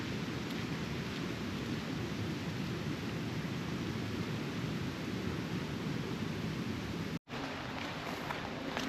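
Heavy rain pours down steadily during a mountain hike on Meall Glas, a dense, even hiss with no pauses except one brief cut-out near the end, and no voices.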